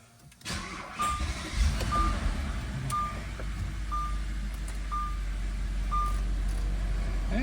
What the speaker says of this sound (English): let's give her a crank.